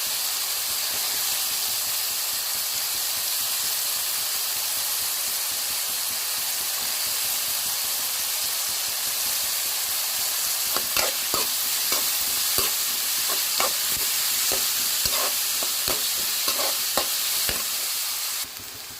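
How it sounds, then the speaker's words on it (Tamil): Onions and mixed vegetables sautéing in a pan for palak semiya, a continuous close sizzle and hiss, joined in the latter half by a rhythmic series of spatula scrapes and stirring clicks. "வெங்காயம் வதங்கிட்டு இருக்கும்போது நான் இதுக்கு தேவையான வெஜிடபிள்ஸை நான் ஆட் பண்ணிக்கிறேன்"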